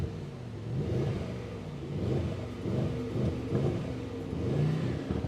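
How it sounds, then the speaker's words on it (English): A 2024 Mercedes GLE 63 S AMG Coupe V8 engine revs at idle, with repeated rising and falling blips over a steady low rumble, fairly close and loud with no talking. "Let's rev the engine a little and listen to the sound."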